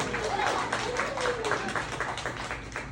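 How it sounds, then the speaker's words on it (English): Audience at a stand-up comedy set clapping in a scattered, moderate burst, with a voice and some whoops heard over the applause as it gradually thins out. "clap it up for getting laid"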